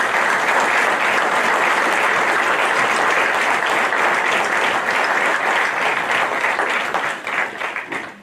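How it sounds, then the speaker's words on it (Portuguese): An audience at a book presentation bursts into sustained applause, dense clapping that holds strong for several seconds before tapering off at the end. "Por todos estes motivos, um grande salva de palmas para o Nuno Jesus."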